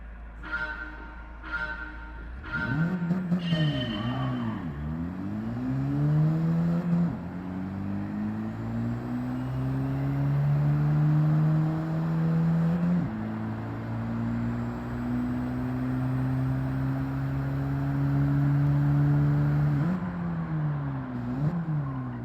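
A car in Gran Turismo 7 brakes hard in a straight line, its engine note dropping through a series of downshifts with blips, then holding a steady drone as it pulls away, loud and continuous with no talk.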